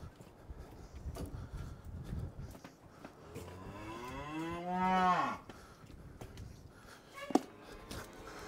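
A single cow gives one long, drawn-out moo close to the microphone midway through, over a quiet farm background with light rustling and a sharp knock just after.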